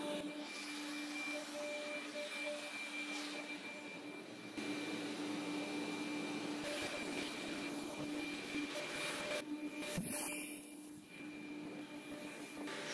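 A Xiaomi Mijia 1C robot vacuum cleaner runs steadily with a continuous whirring motor drone and faint tonal hum, close by and alone, with brief brushing clatter near the end.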